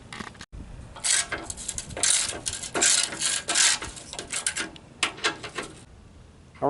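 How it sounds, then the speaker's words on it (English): Bolts being loosened on the rear bumper cover of a Toyota Sequoia, with close, gritty ratcheting and scraping in irregular bursts of tool clatter and metal rasp, with no talking. "we can just loosen these bolts"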